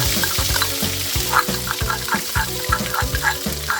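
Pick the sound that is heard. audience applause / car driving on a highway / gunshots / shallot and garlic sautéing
shallot and garlic sautéing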